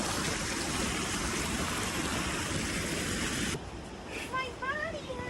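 Rushing water pouring down a steep hiking path like a waterfall, a loud, dense close-up roar that cuts off abruptly partway through, leaving quieter trickling and people talking.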